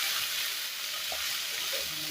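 Taro pieces sautéing in a hot pan for a rohu fish curry, giving a loud, dense, continuous sizzle heard up close and with no speech.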